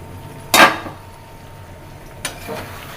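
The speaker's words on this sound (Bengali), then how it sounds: "দেখো এখানে এখন রাতের জন্য গরুর মাংস রান্না করতেছি" A beef curry cooks in a pot as a metal spoon strikes and scrapes it: one loud clattering stir about half a second in, then quiet simmering and a second, lighter scrape near the end, with no talk.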